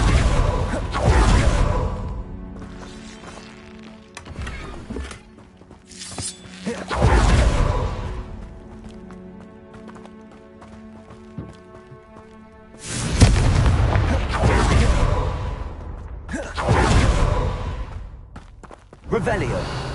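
Confringo fire-spell blasts in Hogwarts Legacy burst as several loud booming explosions with whooshes, arriving in bursts a few seconds apart, with a quieter rumbling bed and brief voiced spell calls between them.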